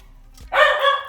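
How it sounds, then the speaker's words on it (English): A dog named Jackson gives a single sharp bark in a home kitchen, loud and close, with no one talking. "he was barking because he didn't realize that I had come back into the kitchen"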